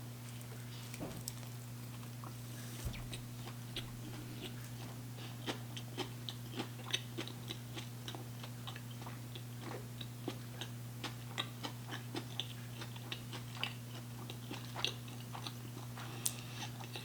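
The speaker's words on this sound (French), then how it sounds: "Voici le cornichon. J'espère que je vais croquer dedans." A McDonald's burger pickle is bitten and chewed with faint, crisp, irregular crunchy clicks repeating over a quiet background, with no talking.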